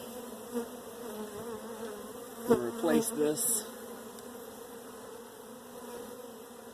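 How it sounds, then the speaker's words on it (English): Honeybees buzz steadily close by during a hive inspection, with a brief louder swell as several foragers fly off a frame; a voice speaks briefly in the middle. "let those bees fly away"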